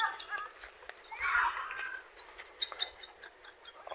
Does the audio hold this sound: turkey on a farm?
yes